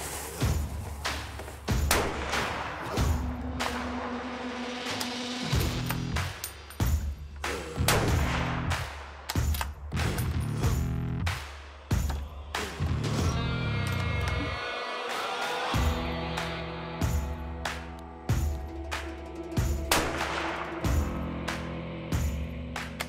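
A Remington 700 rifle in a chassis fires Hornady Gold Medal Match ammunition, giving a series of loud, sharp reports with booming echoes and thuds spread irregularly throughout.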